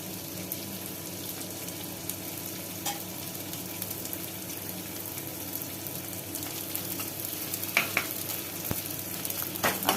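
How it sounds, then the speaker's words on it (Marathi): Edible gum (dink) fries in a pan with a soft, continuous sizzle, joined by occasional stirring clinks and light scrapes that grow a little busier toward the end. "आता आपण थोडा थोडा डिंक तळून घेऊया"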